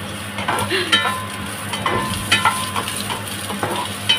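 White onion frying in a pan for sweet and sour pork ribs, a steady sizzle with clinking stir strokes and soft crackle, no talking.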